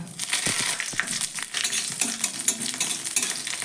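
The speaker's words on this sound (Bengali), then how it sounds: "তেলটা এবার গরম হয়ে গেছে আমি দিয়ে দিচ্ছি চা চামচের হাফ চামচ কালো সর্ষে আর দিয়ে দিচ্ছি কিছুটা পরিমাণ কারি পাতা" Black mustard seeds and curry leaves hit hot oil in a pan, giving a steady close crackling sizzle with sharp spattering pops and some stirring scrapes throughout.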